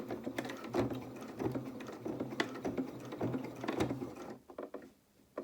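A sewing machine stitches steadily through several stiff layers of fabric at the edge of a French seam, its needle chattering in a fast, even rhythm at close range before pausing near the end.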